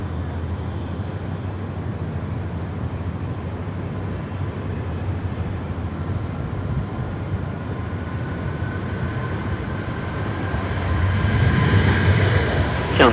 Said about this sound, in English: Here comes our United 870 off to San Francisco.